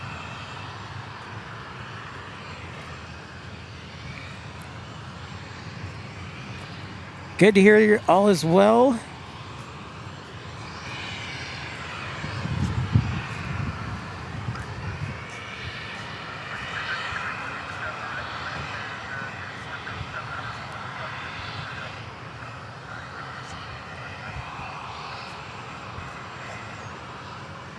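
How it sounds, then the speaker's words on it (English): A jet aircraft's auxiliary power unit runs at an airport, a steady distant whine and rumble throughout, with a brief burst of talk over it early on. "they have fired up the APU, the auxiliary power unit"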